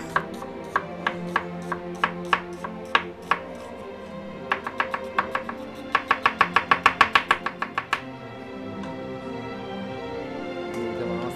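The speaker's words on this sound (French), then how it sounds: "L'oignon est coupé en julienne." An onion being cut into julienne strips in a Venetian osteria kitchen, knife tapping a board in quick irregular chops that speed into a fast even run before stopping, close and crisp with no talking.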